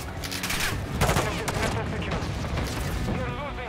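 Video game tank battle in Modern Warfare 2 with dense, overlapping gunfire and explosions, loud and continuous under excited talk.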